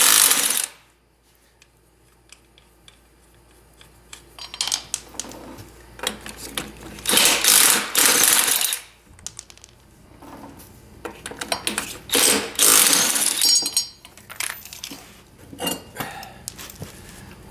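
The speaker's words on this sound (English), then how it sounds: "we're getting the tires off of this Kawasaki now. 13/16 lug nut." Metal tool work removing 13/16 lug nuts from the wheels of a 1984 Kawasaki KLT 200C ATC, heard as clustered rattling, clanking and ratcheting bursts separated by short pauses, close and fairly loud.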